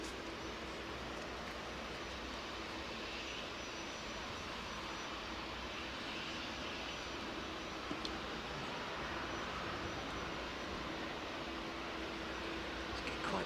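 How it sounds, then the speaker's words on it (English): Freighter aircraft at East Midlands Airport at night, heard as a steady broadband jet engine roar that holds even and loud throughout, with no talk. "planes sound different at night as well"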